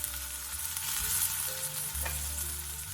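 Onion, asparagus and green peppers stir frying in a hot pan, a steady bright sizzle with a few soft stirring scrapes, close and continuous for a few seconds.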